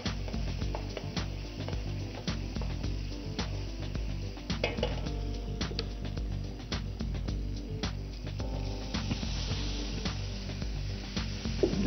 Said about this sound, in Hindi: तो फिर इसको हल्का सा हिला के जैसे मसाला तैयार हो जाता है इसमें हम उबले हुए छोले डाल